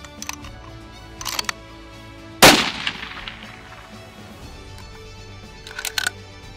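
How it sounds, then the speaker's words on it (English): A single sharp, loud crack of a .308 rifle fired on a hunt in Africa, ringing out and echoing briefly, with quiet rustling and clicks before and after. "I'm shooting a 308"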